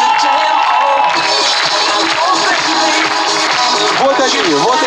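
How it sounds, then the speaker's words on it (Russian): A concert audience at the Forsazh-2012 forum cheers loudly, with whoops and crowd shouting filling the space, sustained and dense from start to finish. "Друзья, еще одну порцию аплодисментов этим людям!"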